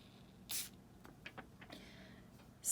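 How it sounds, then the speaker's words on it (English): Issey Miyake L'eau d'Issey eau de toilette is sprayed onto a small piece of paper in two short, soft hissing bursts, one early and one at the end, faint and close, with quiet rustling between. "I'm just gonna spray it here onto"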